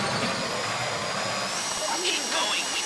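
A steady hissing, whining drill bores into a safety deposit box during a Grand Theft Auto V Online bank heist, a continuous mechanical grind that stays constant throughout.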